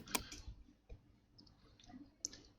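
Computer mouse button clicks on a desktop, a sharp near click at the start and another near the end, with faint scattered desk and room noise between, no talking.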